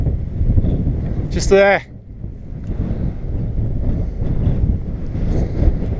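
Strong wind on an exposed hilltop roars steadily against the microphone in a continuous low buffeting rush, and a brief spoken phrase sounds over it.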